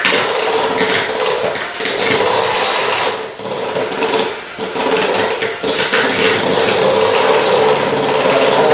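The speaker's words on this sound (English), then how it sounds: "So as I'm stirring there, I'm combining up the ingredients." Cookie dough for soft, fluffy chocolate chip cookies is stirred with a mixer, giving a continuous close whirring and scraping against the bowl with brief dips in loudness, no talking.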